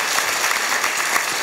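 An audience at a university lecture in Gwangju claps in a dense, steady burst of applause that fills the space close up for a moment before it stops, with no voice heard over it.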